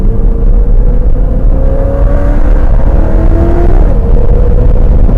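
A Super Bee car's engine pulls hard out of a corner at the Putnam Park racetrack, a loud, steady roar with rising pitch as it accelerates, close and continuous throughout.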